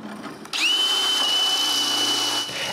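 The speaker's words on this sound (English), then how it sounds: "I just need to drill some holes for the electrical wires." A power drill starts abruptly and whirs at a steady high pitch for about two seconds, then winds down, loud and close, drilling holes in wood.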